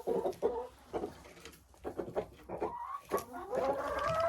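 Several large hens cluck in irregular bursts close by, with short pauses between calls and a rising drawn-out cackle near the end.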